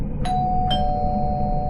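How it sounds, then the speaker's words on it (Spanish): A doorbell at a house rings out as two chime strikes, the second tone lingering and decaying over a steady low background hum, with no voices. "Toqué el timbre, esperé. No salió nadie."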